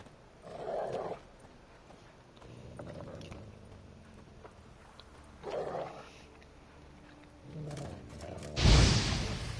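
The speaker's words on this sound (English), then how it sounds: "Just beware of the dogs." Dogs in The Witcher 3 video game, with a few short growls or barks spaced through an ambient game scene, ending in a louder close burst of noise; no talking.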